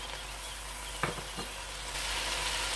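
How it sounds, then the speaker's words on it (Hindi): A tablespoon of whole cumin seeds sizzling in hot oil, a steady close hiss with a couple of brief pops and taps, growing slightly louder and denser toward the end, with no talking. "तो यहाँ पर ऐड करूँगी मैं साबुत ज़ीरा, ये 1 टेबल स्पून है, तो इसमें डाल देंगे"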